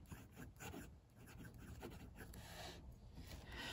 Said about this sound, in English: So the pen writes quite smoothly. There's a hint of feedback on there, but it is smooth.